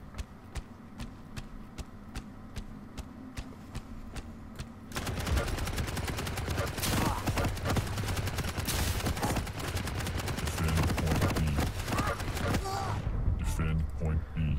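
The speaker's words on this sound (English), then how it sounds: "So he was shooting with a laser gun" Rapid laser-gun fire in the arena shooter Quake Champions, with dense continuous bursts and crackling impacts layered with game effects. Quieter ticking comes first, then loud sustained shooting dominates, with talk mixed in.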